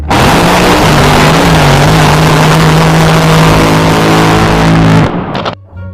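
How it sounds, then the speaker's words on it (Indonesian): A toy speedboat's motor whirs loudly and steadily for about five seconds, a buzzing mechanical drone that cuts off abruptly, followed by a few faint clicks. "kalau yang ini speedboat"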